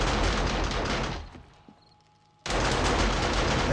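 Defensive turrets in the 7 Days to Die video game fire a dense, loud rapid volley, break off briefly into near quiet, then resume just as hard.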